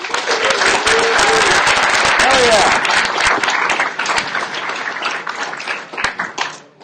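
Loud crowd applause at the LinuxFest Northwest conference, continuous clapping that slowly thins toward the end, with a short shout and some cheering mixed in.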